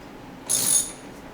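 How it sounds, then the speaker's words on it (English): Ratchet turning a long bolt into a wall: one short, bright clicking burst of the pawl, close and clear against a quiet background. "Gotta have a ratchet set for this."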